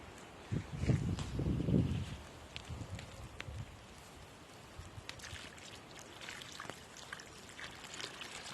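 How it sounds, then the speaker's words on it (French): Water poured slowly onto soil around a newly planted shrub: a gurgling, splashing pour for about a second, then quieter intermittent trickles and small drips that fade. "On arrose doucement en plusieurs fois jusqu'à ce qu'il n'y ait plus de bulles d'air qui remontent à la surface."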